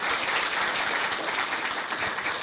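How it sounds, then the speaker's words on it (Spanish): Sustained audience applause fills the clip at a political youth-for-peace event in Colombia, a dense steady wash of many hands clapping with no break or gap. "el aplauso más grande de la tarde de hoy es para la doctora"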